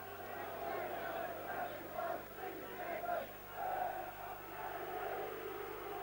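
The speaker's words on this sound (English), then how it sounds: "Getting a fair amount of booing now from the Argyle fans behind that goal" Argyle football fans behind the goal boo at a Torquay United match, a distant, muffled crowd roar that swells and dips in waves under faint voices.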